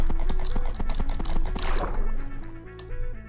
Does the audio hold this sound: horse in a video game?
yes